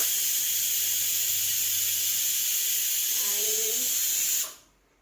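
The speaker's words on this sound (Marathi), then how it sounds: "सकाळ सकाळी कुकर लावलाय" A steady high hiss of steam from a pressure cooker cooking sweet potatoes runs continuously, then stops suddenly near the end; a faint voice murmurs briefly underneath.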